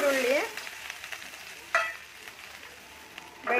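Onion, garlic and chilli frying in oil for a village-style country chicken bassaru, a steady close sizzle with scraping stir strokes and a brief voice at the start and end.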